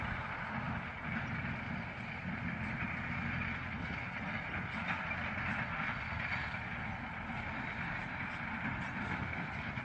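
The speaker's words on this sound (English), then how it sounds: "That one there that's coming at 9, that's got the same engine as our 650 McCormick tractor" A vehicle with the same engine as a McCormick 650 tractor approaches on a road, a steady low diesel-like rumble at moderate distance holding an even level.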